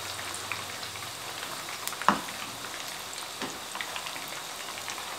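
Egg koftas frying in oil over a medium flame give a steady, soft, close sizzle throughout, with a few brief clicks and one sharp tap near the middle.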